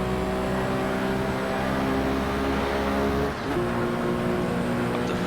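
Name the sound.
Porsche 917K engine shifting gears in video game Assetto Corsa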